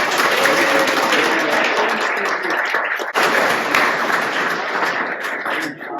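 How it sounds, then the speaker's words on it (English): Gallery talk audience claps for the exhibiting artists, a steady wash of applause from a modest crowd with a brief dip midway, then continuing before tapering. "Let's give them all a round of applause, please."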